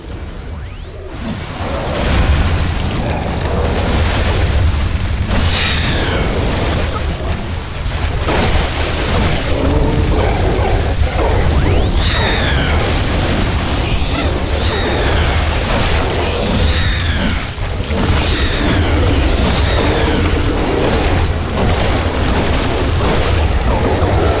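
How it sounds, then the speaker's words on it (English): Buildings and defensive walls being destroyed during an attack on a base in the video game The Riftbreaker: dense, sustained booms, bursts and whooshes layered over a continuous rumble, with no talk. "One of our buildings is being destroyed."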